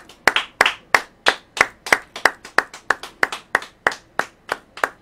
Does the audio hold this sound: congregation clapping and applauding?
yes